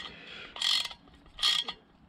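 Bolts being tightened into new chrome wheels, taking care not to gall the threads; two short metallic ratcheting bursts, close and fairly quiet, separated by a brief pause.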